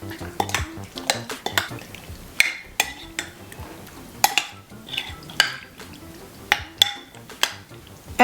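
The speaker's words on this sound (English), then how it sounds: "Then just mix them all together." Utensil stirring mirin and white pepper together in a bowl for spicy chicken teriyaki, with repeated clinks and scrapes against the bowl in an irregular rhythm, close and fairly loud, no talking.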